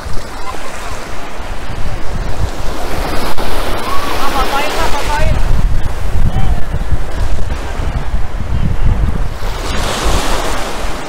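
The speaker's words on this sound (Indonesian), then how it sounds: "ombaknya tidak begitu besar ya" Ocean surf at Pantai Gesing, a beach in Gunung Kidul, Yogyakarta, where the waves are fairly small. Waves wash and crash continuously and loudly up close, with heavy wind buffeting the microphone throughout.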